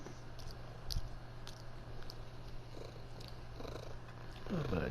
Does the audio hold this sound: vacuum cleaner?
no